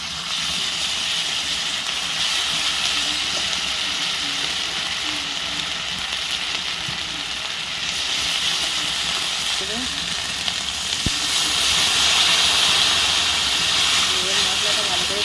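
A ground paste of ginger, garlic, cumin, coriander and dried chilli sizzles in a pan with a continuous, loud, even hiss that swells slightly near the end.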